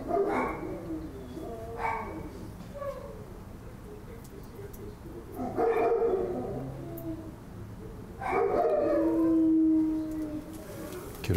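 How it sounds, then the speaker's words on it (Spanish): Dogs barking in scattered bursts at a middle distance, with a drawn-out howl near the end, over a low steady background hum. "están ladrando los perros"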